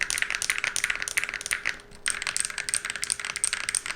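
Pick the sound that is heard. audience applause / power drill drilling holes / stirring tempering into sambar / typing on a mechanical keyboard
typing on a mechanical keyboard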